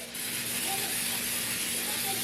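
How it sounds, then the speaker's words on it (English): Cooking spray hisses in a steady, close aerosol burst onto a baking pan, sounding thin as if the can is nearly empty, lasting about two seconds with no talking. "Here's my baking pan. I'm just gonna spray some"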